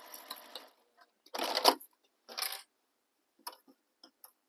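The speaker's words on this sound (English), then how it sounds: "I'm just basting across the bottom." Sewing machine basting stitches across the bottom of a fabric sling bag, a few short whirring bursts of stitching separated by pauses and small clicks, close and fairly quiet.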